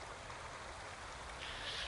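A waterfall in Ghost of Tsushima pours with a steady, faint broadband rush, an even hiss of falling water heard alone with no voices.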